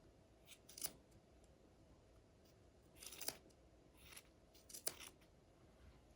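Scissors trimming a yarn pom pom made with a pom pom maker, three faint crisp snips spaced a second or two apart in a quiet room.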